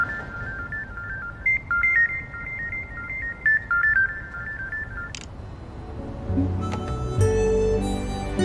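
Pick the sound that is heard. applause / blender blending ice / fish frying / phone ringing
phone ringing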